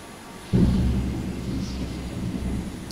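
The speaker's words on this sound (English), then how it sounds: "that's thunder and not in Carrier Command 2" Real thunder rolls in from outside: a sudden low boom that breaks into a deep, grumbling rumble and fades slowly over a couple of seconds, heard alone.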